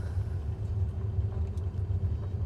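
Aircraft engine at full throttle in Microsoft Flight Simulator during a night flight, a steady deep droning rumble with a constant low hum, loud and continuous with no talk.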